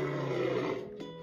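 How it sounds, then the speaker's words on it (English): A lion roars once, a rough, drawn-out bellow heard clearly on its own that swells and then trails off abruptly. "Lion."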